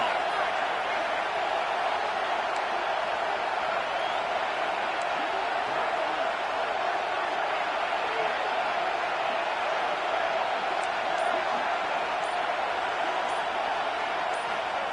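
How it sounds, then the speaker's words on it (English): Home football crowd at a Michigan stadium roaring steadily as the defense faces third down, a dense, constant wall of cheering and noise with no breaks, loud and far-spread throughout. "Here comes this home crowd as the defense tries to get off the field on third down."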